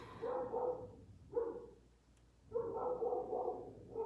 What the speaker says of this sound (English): Just listen to the sound of the dogs barking if you can hear it.